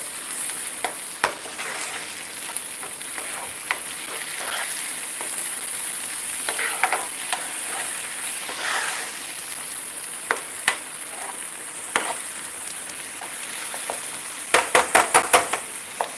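Tomatoes fry in a pan with a steady, close sizzle, while a utensil stirs and scrapes at scattered moments and a quick burst of clinks comes near the end.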